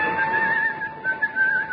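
A man whistles a wavering, steady tune at close range, the melody drifting up and down for a couple of seconds with a slight dip midway.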